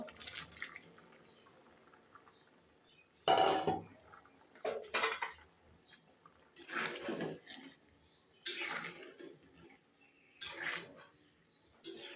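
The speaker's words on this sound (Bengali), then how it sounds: "এখন আমি যে আগে থেকে যে সয়াবিনগুলো ভেজে রেখেছিলাম, সয়াবিনগুলো দিয়ে দিব।" Fried soybeans are tipped into a pan of curry, with several separate bursts of spoon scraping and metal clinking against the pan, plus soft wet sloshing between them.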